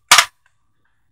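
A single sharp gunshot from an AR15 rifle with a Dead Foot Arms MCS folding stock, loud and close, fired on an outdoor range with a quick decay into silence.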